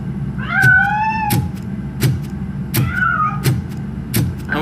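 A cat meows twice in the video game RoboCop: Rogue City, each meow a rising and falling tonal cry, with sharp clicks and a steady low rumbling hum beneath.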